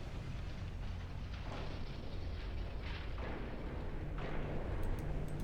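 Warship guns in the naval game Ultimate Admiral Dreadnoughts fire in a few dull, distant booms over a steady low rumble of engine and sea noise, with no talking.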